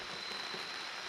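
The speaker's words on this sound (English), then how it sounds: "It hasn't been pouring down rain at all, but it has just been a steady rain." Steady rain patters on a camping awning during an Ozarks offroad trip, an even, continuous hiss of drops with no talk.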